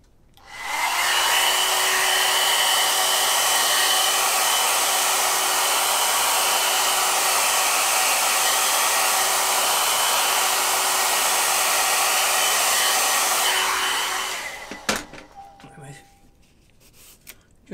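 A hair dryer blows on a watercolour painting, a loud, steady whooshing roar with a constant whine that runs for about thirteen seconds before cutting off, followed by light handling noises.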